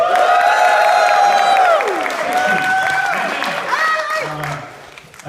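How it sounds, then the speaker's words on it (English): A conference audience at a JavaScript talk claps, cheers and screams loudly for a few seconds, with whoops and sustained shouts that fade toward the end as the noise dies down. "cheer and scream and clap really loud just for a brief moment"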